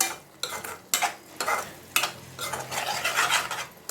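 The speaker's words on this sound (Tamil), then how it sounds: "நல்லெண்ணெய் சேர்த்து கலந்து விட்டுக்கோங்க" A spoon scrapes and stirs thick Andhra kara chutney with sesame oil in a pan over a low flame, in repeated close strokes with a soft sizzle underneath and no voices.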